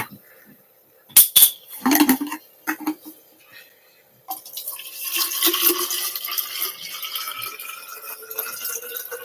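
Water poured into a clean water bottle, a few clunks and handling knocks at first, then a steady close splashing, gurgling stream that rises in pitch as the bottle fills.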